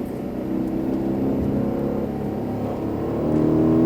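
Aston Martin Vantage F1 Edition engine revving hard as it accelerates on a racing track, a loud, steady in-car roar that builds toward the end with no talk over it.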